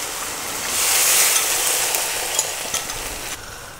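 Minced beef browning in a hot frying pan, a loud, close, continuous sizzle that swells and fades with scraping stirring strokes, heard alone without speech.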